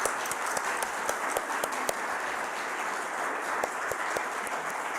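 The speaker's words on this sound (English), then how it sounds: "Let's please give Chris Thaler a round of applause" A congregation at a Sunday service claps for a musician after his songs, producing fairly soft, even applause with distinct individual claps standing out in a quick, scattered rhythm throughout.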